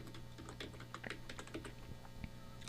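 Keys on a computer keyboard clack in quick irregular bursts, close and quiet, with short pauses between runs of typing over a low steady hum.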